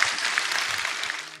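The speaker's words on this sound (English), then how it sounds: "that got some spontaneous applause from the audience" Spontaneous applause from an audience at the E3 2019 games expo, a dense burst of many hands clapping continuously at a distance, fading slightly at the end.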